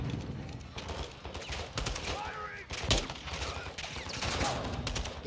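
Dense gunfire in the Modern Warfare 2 campaign crackles in rapid bursts and scattered sharp shots, with a louder crack near the three-second mark over ongoing battle noise.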